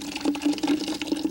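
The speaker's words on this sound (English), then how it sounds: "Now you're gonna pour that right in the canister here for your ice cream." Liquid ice cream mix pours into an ice cream maker canister in a steady, close, gurgling stream, with a faint hum underneath.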